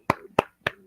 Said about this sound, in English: applause, applause, applause, applause